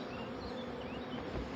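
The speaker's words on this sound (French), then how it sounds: "sont les abeilles les plus âgées et généralement les plus agressives" Honeybees buzzing steadily around an open acacia honey hive, a dense, faint continuous drone of many insects close by with no talk.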